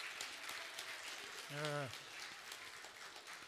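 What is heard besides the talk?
church congregation applauding students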